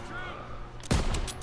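A single loud gunshot bursts out about a second in, near and sharp, over a low battle-noise bed in the Call of Duty WW2 campaign mission Stronghold.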